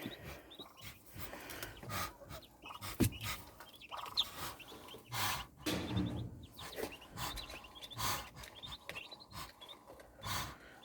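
A mother hen clucks among her newly hatched chicks, with repeated clucks and soft high chirps scattered through the clip, close by and moderately loud, with no voices.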